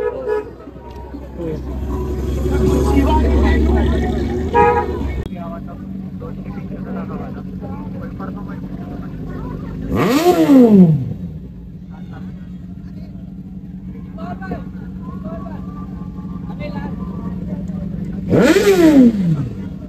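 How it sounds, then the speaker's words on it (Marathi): A motorcycle engine revs and accelerates nearby at a car and superbike show in Thane while people talk, and a horn honks twice, once in the middle and once near the end. "अभी साहब बाइक चल रहा है"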